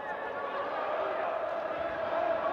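A boxing crowd roars after a flash knockdown in the Boudiaf versus Sam Maxwell bout, a dense, steady wall of cheering that holds at full volume throughout and swells slightly near the end.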